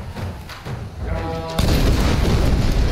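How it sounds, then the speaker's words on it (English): A grenade launcher fires and its round explodes in the Tomb Raider video game, a heavy booming blast followed by a loud sustained rumble, with no talking. "Oh yeah, I forgot I have that grenade launcher thing."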